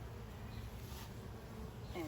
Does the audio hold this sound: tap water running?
no